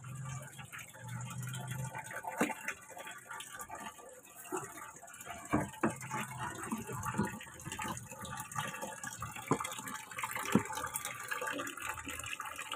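Water from a pump flows and splashes unevenly, a faint, continuous trickling gush with scattered drips and knocks.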